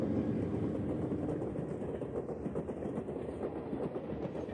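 Southern Pacific Trainmaster diesel locomotive pulling a train toward a tunnel, a steady continuous rumble with faint rail clatter, fairly loud and unbroken throughout, no voices.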